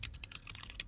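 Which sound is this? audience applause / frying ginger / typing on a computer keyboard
typing on a computer keyboard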